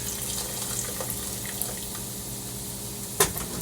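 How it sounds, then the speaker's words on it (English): Steady running hot water streams continuously into a cooking pot of khoresht gheymeh stew, with a brief sharp clink of metal near the end. "we're going to add some hot water"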